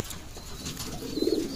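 Pigeons at a pigeon seller's, soft cooing amid a busy background, with a louder coo rising near the end of the short stretch.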